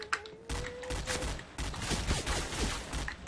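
Rifle fire in the online shooter Point Blank, dense bursts of shots crackling close and loud through most of the stretch, with a brief tone early on.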